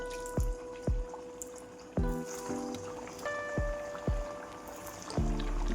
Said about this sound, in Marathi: आता यामध्ये वडे तळून घेऊ आपण, बघा।